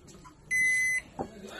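A Midea microwave oven's control panel gives a single steady electronic beep of about half a second as the timer button is pressed, close and clear over faint room noise, followed by a small click.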